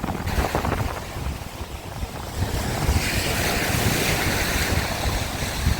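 Rough, stormy Black Sea waves at Odesa crash and roar steadily, with gusting wind buffeting the microphone throughout; no voices.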